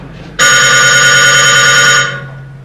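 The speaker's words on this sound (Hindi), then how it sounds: "टेलीफोन सुन भाई नवाब" A telephone rings on a comedy stage show, a loud, steady electronic bell tone that starts abruptly and holds for about a second and a half before cutting off.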